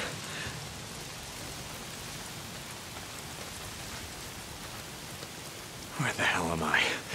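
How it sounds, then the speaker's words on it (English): Steady rain falls in the video game Days Gone, a constant hiss of drops on surfaces throughout, with a brief louder burst of voice or activity near the end. "If it's not the freaks, it's the goddamn rain."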